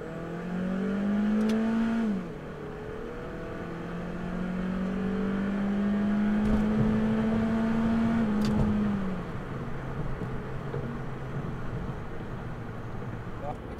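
A car engine revs hard, pitch climbing steeply through one gear, dropping at a shift, then rising again to a long high hold near the limiter before easing off, close and loud.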